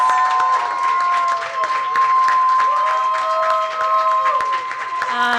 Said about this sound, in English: please, the biggest applause that you have in you